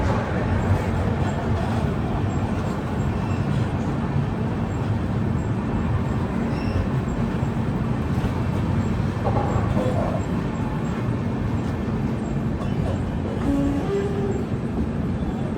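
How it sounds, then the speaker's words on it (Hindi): Interior of the Kochuveli–Yesvantpur AC Express while it runs, a steady loud rumble and rattle of the carriage that continues throughout with no pauses, plus a few faint higher tones over the drone. "अपनी ट्रेन बिल्कुल अभी ऑन टाइम चल रही है"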